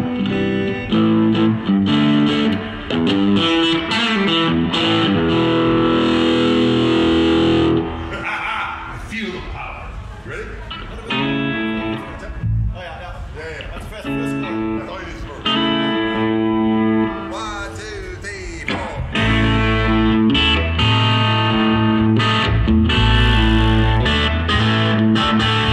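A distorted electric guitar through a Koch 'The Greg' amplifier plays loud, gritty chords and riffs at a music trade fair, with a brief thinner passage midway before the full crunch returns.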